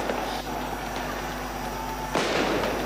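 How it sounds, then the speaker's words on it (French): A ceremonial cannon salute during a presidential motorcade's arrival at the palace: a single deep, distant blast stands out against steady crowd noise and outdoor ambience. "On voit les coups de canon qui sont en train d'être attirés."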